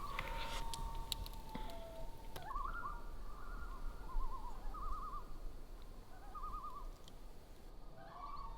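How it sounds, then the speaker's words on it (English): Loons call in quivering, wavering tremolo phrases repeated several times over a few seconds, faint and distant over a steady background hiss, with no voices. "the sound of the loons is so nice."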